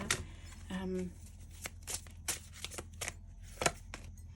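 Tarot cards are drawn and shuffled from a deck, with soft papery flicks and sharp snaps scattered over a few seconds, close and fairly quiet, while a voice talks briefly.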